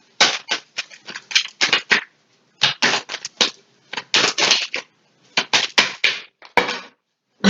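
Tarot cards are drawn and laid down close by in quick, crisp clusters of papery snaps and slaps, separated by brief silent pauses, with no talking.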